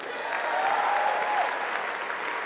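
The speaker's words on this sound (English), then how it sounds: "A round of applause for them." A dense crowd applauds cosplay contest sponsors at a comic convention, steady and sustained for the whole stretch, with a faint tonal whistle or cheer rising briefly in the middle.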